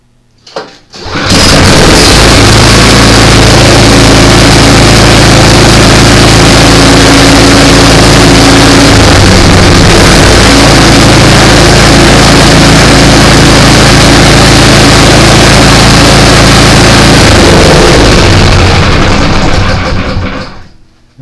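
A snowblower engine, unused since last winter and set on choke, catches on the first pull and runs loudly and steadily at a close, even idle for about twenty seconds before cutting off, with no talking over it.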